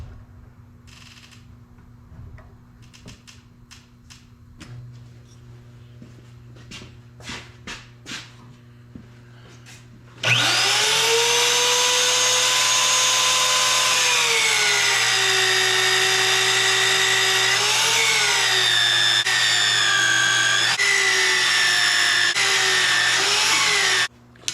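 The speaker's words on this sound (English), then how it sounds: "So I'm gonna drill these 11/16. I got a carbide bit for the mag drill here" Magnetic drill with an 11/16-inch carbide bit boring holes for custom hitches on a Kenworth T370 build: a few short taps and clicks, then the motor starts and whines loudly and steadily, its pitch dipping under load before stopping abruptly.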